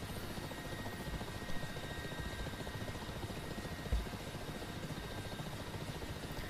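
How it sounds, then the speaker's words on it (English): Mi-8 helicopter in the DCS combat flight simulator, straining for altitude as its turbine RPM droops, a continuous dense rotor and turbine drone with a steady buzzing hum and a couple of small thumps. "As I push the collective trying to get just a little bit more altitude out of it, you'll hear the turbine RPM droop"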